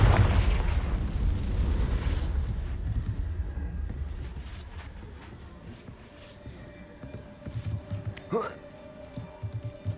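A Confringo blasting spell explodes in Hogwarts Legacy, a loud booming burst that rumbles and slowly fades, followed by quieter thuds and crackles of debris.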